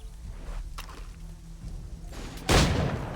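A single loud sniper rifle shot in Assassin's Creed 3 cracks out sharply near the end, preceded by faint shuffling and rustling movement sounds in a quiet outdoor scene.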